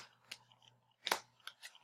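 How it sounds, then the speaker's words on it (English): Tarot cards being shuffled by hand, a few sharp papery riffles and snaps, close and fairly quiet, with a louder flurry in the middle and no talking. "I do feel comfortable showing you the shuffling process."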